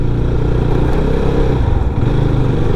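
A GPX Demon 250cc motorcycle being ridden on the road: steady mid-pitched engine drone with slight revving swells and wind noise throughout, no talk over it.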